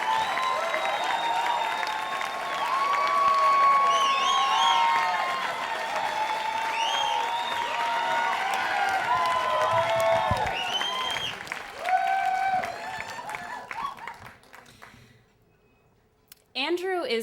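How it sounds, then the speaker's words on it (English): Sustained audience applause for a storyteller coming on stage at a live storytelling event, steady and dense with faint whoops, thinning out and fading near the end. "Keep your applause going."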